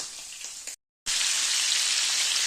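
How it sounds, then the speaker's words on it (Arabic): Chicken liver frying in butter in a pan, a steady bright sizzle and crackle, loud and close, with a brief cut of silence partway through. "هذه هي الكبده نتاعنا حطيناها زبده تقلى"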